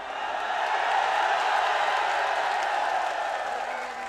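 A large outdoor crowd at a political speech applauds, a dense sustained wash of clapping and cheering that swells and holds at a steady level before easing slightly at the end, with no voice over it.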